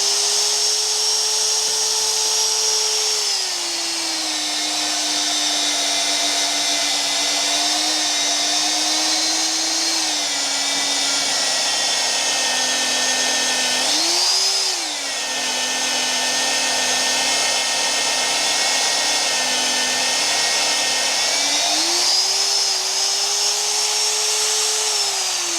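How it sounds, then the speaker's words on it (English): A magnetic drill with a lubricated annular cutter bores holes through a steel portal frame during a hay barn build, a loud continuous motor whine whose pitch dips as the cutter loads up under pressure, with no talking. "the mag drill's really good at cutting them out"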